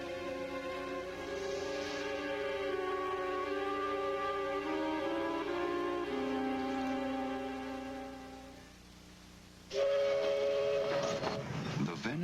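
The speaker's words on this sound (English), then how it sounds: "The Venice Simplon Orient Express." The Venice Simplon Orient Express luxury train sounds long, sustained whistle-like tones that shift in pitch for several seconds, followed by a sudden louder rush of rail noise near the end.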